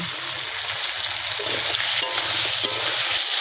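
Steady, crackling sizzle of slit green chilies frying in a hot pan, loud and close, with no voices.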